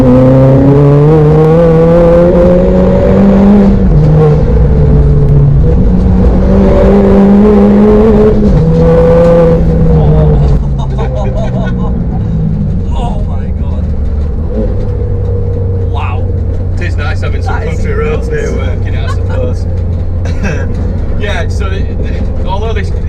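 Loud engine of a 330 bhp Ford Fiesta ST Stage 3 race car revs and accelerates through rising gear pulls, then drops to a lower drone with crackles and pops. Someone talks over the engine.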